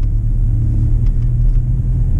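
A Chevrolet Silverado pickup drives on an icy winter road heading into town, heard from inside as a loud, steady low rumble of engine and tires with faint ticks above it.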